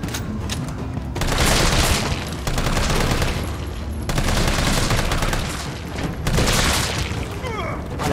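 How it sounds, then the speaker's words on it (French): Dense rapid gunfire from a zombie-shooting horror game, with bursts of fusillade-like shots and booming impacts as bodies burst apart, loud and continuous in waves across the whole stretch. "Les explosions de corps qui me font flipper."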